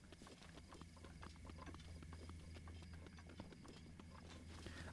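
Horse hooves clip-clop steadily at a walking pace in Breath of the Wild, a continuous rhythmic series of hoof falls over a low ambient bed, moderately loud with no voices.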